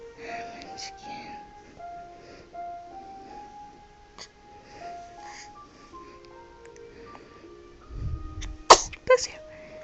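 A baby gives a sharp little sneeze near the end, preceded by soft babbling and quiet coos, with a caregiver's voice talking gently in the background.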